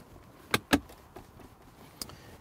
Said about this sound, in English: Door test. Yeah, it sounds very nice and solid.